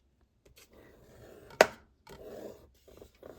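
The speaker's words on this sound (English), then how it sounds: "we're going to give it a good burnish." Paper being burnished with a burnishing tool while a paper-craft folio is assembled: soft, scratchy rubbing strokes close by, with one sharp tap-like scrape in the middle and no talking.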